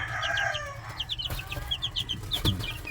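Eight-day-old kanawayon white streamer baby chicks in a backyard brooder, peeping in rapid high-pitched chirps that repeat close and clear throughout.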